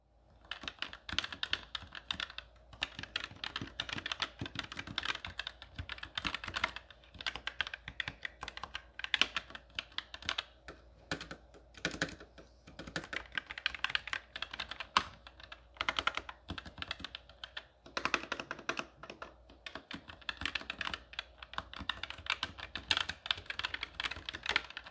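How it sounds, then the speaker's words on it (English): Rapid typing on an ASUS ROG Strix Scope RX optical mechanical gaming keyboard, close and clear, with bursts of crisp key clicks separated by short pauses and no talking. "maybe this ASUS ROG STRIX Scope RX optical mechanical keyboard"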